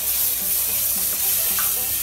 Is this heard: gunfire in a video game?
no